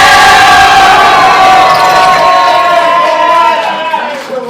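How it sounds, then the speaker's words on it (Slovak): A live audience at the final of a Slovak rap battle in Trnava shouts and cheers loudly and continuously, a dense roar of many voices that fades slightly toward the end. "Kto si myslí, že by mal dnešný battle vyhrať, Makak kričí teraz!"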